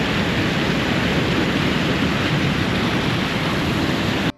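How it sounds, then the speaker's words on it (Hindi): A waterfall on Iceland's Golden Circle roars as a steady, loud, broadband rush of falling water that fills the scene without pause, then cuts off abruptly at the end. "Look at this waterfall."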